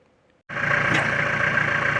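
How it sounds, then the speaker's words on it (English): A tractor engine starts abruptly after a brief quiet moment and settles into a steady, fairly loud close idle at a shop where a 1948 Ford project is beginning. "Okay, the tractor has arrived, so let the project begin."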